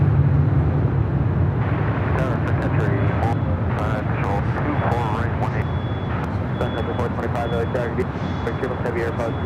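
A heavy Airbus A350 jet departs Los Angeles airport with a steady, broad engine roar throughout. Radio voices talk over the noise.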